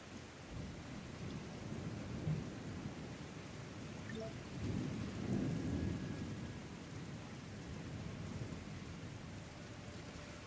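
Rain falling in an old-school MMO video game, a steady close hiss of rainfall with a soft rumble of thunder swelling midway, no talk.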